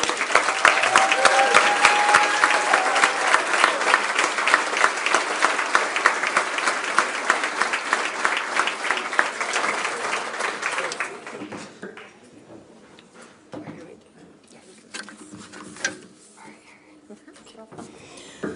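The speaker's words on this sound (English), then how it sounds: "can we all give them a well-deserved round of applause?" An audience at a public housing action assembly in Missoula gives elected officials a round of applause. Dense, steady clapping lasts about eleven seconds, then fades to scattered claps and quiet room noise.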